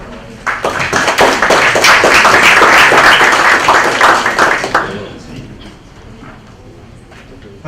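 Loud, dense applause rises from the audience at a public policy and disability conference as a speaker is welcomed to the podium, holding strong for several seconds before tapering off into quiet room noise.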